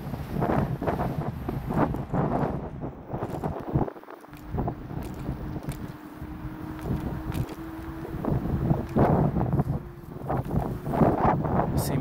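Strong wind buffets the microphone on a wide sidewalk in Midtown Atlanta, a steady broadband rush with gusts under street noise and passing traffic, with no one talking.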